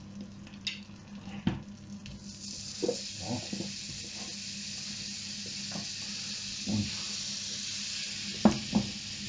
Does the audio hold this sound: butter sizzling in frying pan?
yes